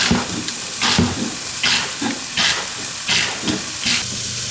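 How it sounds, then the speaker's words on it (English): Garlic and onions sizzle in a hot pan with a steady hiss, while rhythmic bursts of knife chopping, likely celery being cut, break in about twice a second, close and loud with no voices. "let that start sizzling already while I cut this"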